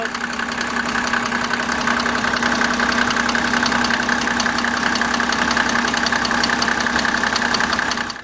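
A diesel Mercedes engine idling with a brand-new cooling fan clutch, a steady, close mechanical clatter with an even rapid ticking rhythm running unchanged throughout, no voices.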